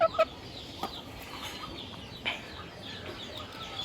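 Hens and a rooster in a backyard make soft, scattered clucks over a steady outdoor background, with a couple of louder calls near the start.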